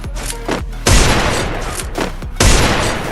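Loud bursts of gunfire from the Free Fire video game, with two heavy booming volleys amid rapid rattling shots, close and dense throughout.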